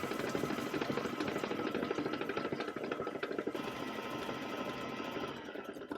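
Stand mixer beating butter and sugar at medium-high speed while making tahini chocolate chip cookie dough, a steady loud motor whir with a fast rhythmic paddle churn running throughout, no voices.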